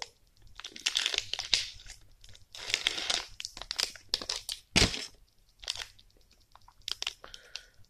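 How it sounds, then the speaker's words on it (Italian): A plastic package crinkles and crunches as it is torn open by hand, in irregular close bursts of rustling with brief pauses between them. "Apriamo il secondo pacchetto."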